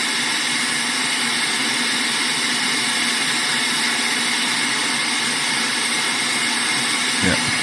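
A SUGON 8650 hot air station blows steadily while desoldering components on an electronics workbench, giving a loud, continuous fan-and-air hiss with a faint tonal whine, unbroken for several seconds.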